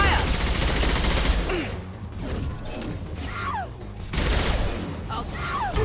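Rapid gunfire rattles in Mass Effect 2 combat on Omega, loud and sustained with brief lulls and metallic impacts, while voices speak over the shooting.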